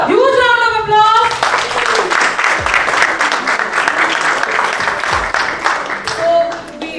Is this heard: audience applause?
yes